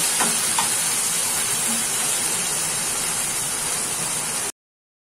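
Chopped onion and garlic cloves frying in a pan give a continuous, close sizzle and hiss with a few faint clinks at the start, then the sound stops abruptly.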